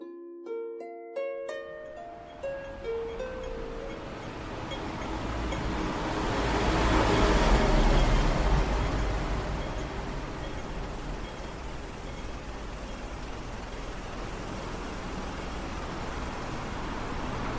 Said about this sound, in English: That is the sound of walking through the streets of Hong Kong at this time in the morning.